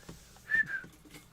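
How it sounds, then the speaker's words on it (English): A person whistles a brief two-note phrase indoors, short and moderately loud, with faint room noise around it. "I shouldn't whistle."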